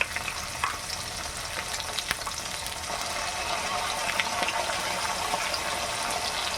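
Spice paste with cumin and coriander for a chital fish curry sizzles in a hot pan with a steady, dense crackle that continues throughout, with a few faint clinks on top.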